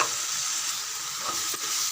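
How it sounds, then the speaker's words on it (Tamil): Ground tomato sautéing with chili powder in a pan, giving a steady, bright sizzle with soft stirring scrapes across the whole stretch and no voices. "தூள் கூடயே அந்த மிளகாத்தூள் கூடயே தக்காளி நல்லா வதங்கட்டும்"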